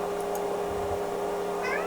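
House cats meow in the background, a couple of short distinct meows early and another near the end, moderately faint over a steady electrical hum.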